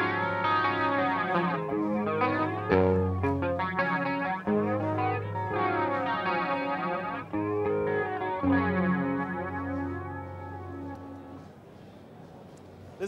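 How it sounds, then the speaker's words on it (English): A distorted electric guitar plays chords and riffs through an Akai flanger pedal, its jet-like whoosh rising and falling, loud and continuous before fading out. "Next up is our classic flanger"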